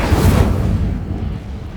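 Incendio fire spell cast in Hogwarts Legacy, a loud burst of roaring flame and low rumble at the start that fades gradually over about two seconds.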